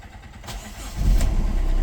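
A 2015 Honda City V diesel car engine cranks briefly with its bonnet open, then catches and settles into a loud, steady close idle.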